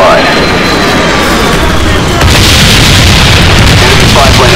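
Heavy explosions and booms from a B-52 bomber strike in Call of Duty: Black Ops fill a loud, dense wash of game noise with aircraft rumble and bursts, along with in-game voice callouts.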